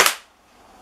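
A single sharp airgun shot is fired at a lithium ion battery, one loud, close crack that decays quickly into quiet.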